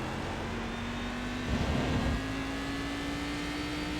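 A Cadillac CTS-V race car in iRacing at Road America, its engine drone holding a steady rising pitch with a brief louder surge midway, continuous and close, no talking.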